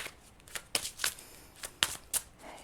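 Oracle cards are shuffled close by, with a string of soft riffling bursts and flicks repeating at an uneven rhythm against quiet background.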